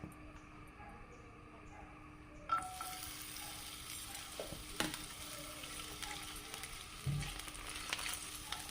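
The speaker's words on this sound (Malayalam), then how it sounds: "എണ്ണ നന്നായിട്ട് ചൂടായിട്ടുണ്ട് നമുക്ക് ഇഞ്ചി ഇട്ട് കൊടുക്കാം" Ginger sizzles in hot coconut oil in a pan, a continuous crackling fry that erupts as the pieces go in and keeps hissing, with occasional clinks of a utensil.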